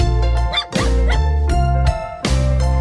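A dog barking within a Norwegian children's cartoon song: several yipping barks cut across loud, steady music with a low bass line, evenly spaced and close up.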